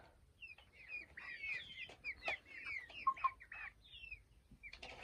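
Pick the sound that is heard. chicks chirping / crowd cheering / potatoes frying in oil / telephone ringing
chicks chirping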